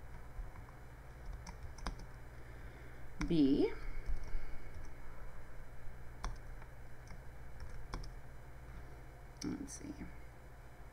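Computer keyboard typing comes as scattered soft clicks and taps, close but quiet, alongside a brief spoken word during the coding work.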